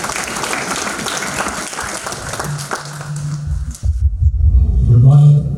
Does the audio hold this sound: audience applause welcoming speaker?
yes